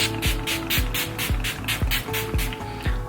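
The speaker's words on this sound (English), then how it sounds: "be generous with the spray." Quick bursts of makeup setting spray hiss out in a steady rhythm, about six short pumps close by over soft background music.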